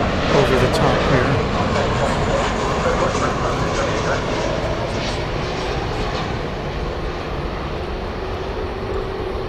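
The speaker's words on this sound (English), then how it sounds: "United flight coming in from Denver over the top here." A United airliner arriving from Denver passes overhead at night near DFW Airport, a loud, steady broadband engine roar that fades slightly over the clip.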